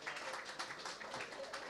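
An audience applauds at the 2016 trailer launch of the film 30 Minutes, a soft, steady patter of many hands with small swells, faint and distant throughout.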